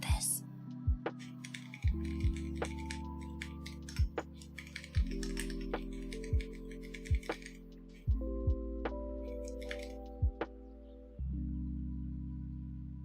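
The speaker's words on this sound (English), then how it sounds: "Metallic clicking sound? Is it me typing?" Keyboard typing, sparse clicks at a slow, uneven rhythm alongside a steady, shifting low tone.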